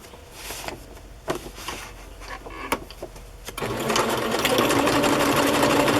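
A sewing machine stitches a pocket onto a paper page, first in a few short start-stop bursts and then running steadily with a loud, close mechanical whir.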